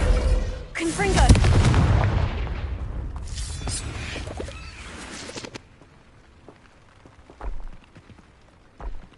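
Confringo blasting spell explosions in the video game Hogwarts Legacy, a loud booming blast with a rumbling decay followed by quieter thuds, with a voice present.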